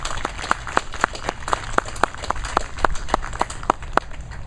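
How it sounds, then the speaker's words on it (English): Applause at an outdoor opening ceremony for The Wall That Heals memorial comes through as a moderate patter of scattered individual claps in a loose, sparse rhythm rather than a dense roar. "Give those folks a round of applause,"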